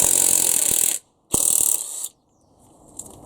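Two bursts of rapid ratchet clicking from a 10mm socket working clutch bolts loose on a Honda Civic EF engine, close and loud, separated by a short silence, with a faint clicking tail at the end.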